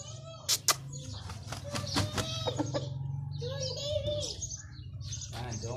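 Aseel fighting rooster at a cockfight in Shakargarh, giving short harmonic calls and clucks close by, mixed with chirps of other birds and some voices in the background.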